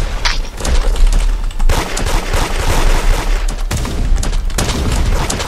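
Video game shooter gunfire erupts in dense, loud overlapping bursts of rapid shots and booms, filling the whole stretch with only brief dips between volleys.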